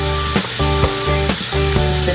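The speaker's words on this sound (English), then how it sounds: "So I am adding some soy milk here." Soy milk poured into a hot pan for a vegan creamy mushroom pie sets off a loud, close, continuous sizzle with steady hiss and stirring scrapes, with music playing underneath.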